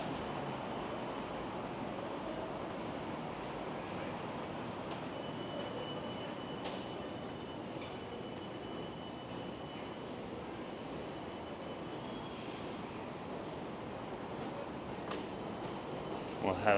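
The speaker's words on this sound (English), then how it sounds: "We're gonna transfer and catch the train over to Vancouver or VCC Clark Station." A SkyTrain rumbles steadily through a Vancouver station, with a faint high whine and occasional metallic clicks over a constant low roar.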